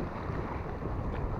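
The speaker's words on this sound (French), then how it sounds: "Le vent commence à monter un petit peu." Wind rising over open water at a fishing spot, a steady broadband rush with low rumbling buffeting against the microphone, continuous and moderately loud with no voices.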